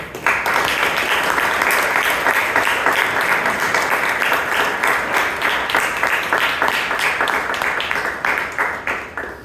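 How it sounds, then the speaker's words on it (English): Members of a Bangalore Toastmasters club meeting applaud the role takers, loud, sustained clapping from a roomful of people that runs unbroken and dense for several seconds. "Can we have once again a big round of applause for all the role takers?"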